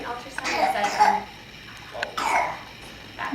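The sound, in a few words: cough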